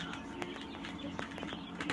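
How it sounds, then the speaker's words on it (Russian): Two-week-old quails in a home incubator give soft chirps and coo-like calls, faint and close, over a steady low hum. "В нем растут птички. Здесь у меня перепела."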